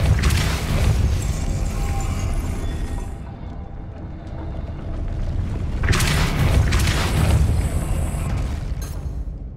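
A Depulso spell cast in the Hogwarts Legacy game lets out a heavy, rumbling magical blast that swells, fades, then surges again into a loud booming burst, filling the whole stretch with dense low-end noise.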